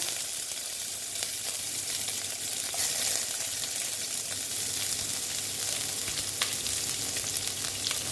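Chopped onion frying in hot oil with white cumin seeds for a Bengali aloo dum, a steady close sizzle with faint crackles and occasional stirring clicks, continuous throughout without talk.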